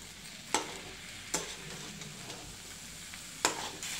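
Banana being stirred into sheera in a pan on the stove, with a few sharp spoon scrapes against the pan over a low, steady sizzle.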